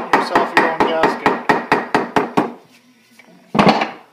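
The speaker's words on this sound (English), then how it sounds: "Just tap it along the sharp edge, kind of on a 45 degree angle. And it will cut itself its own gasket, basically." Rapid series of about ten sharp metallic taps from a small hammer working along the edge of a gasket sheet on a 1916 Maytag upright engine, close and evenly paced, then a pause and one last louder burst of tapping.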